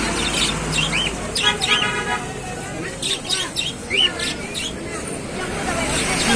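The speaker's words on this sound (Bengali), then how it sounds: "একটা বিউটি বিউটি কবুতর আছে" Several pigeons chirp and squawk in short bursts amid a busy crowd at an afternoon village market, with voices murmuring and chattering close by.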